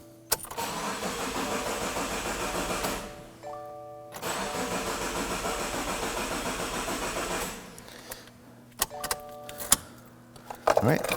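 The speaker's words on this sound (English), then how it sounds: "Just going to go ahead and start up the vehicle." A 2015-2019 Subaru Outback engine cranks repeatedly in long whirring bursts without catching after a fuel pump replacement, with pauses between attempts and a few clicks and clunks near the end.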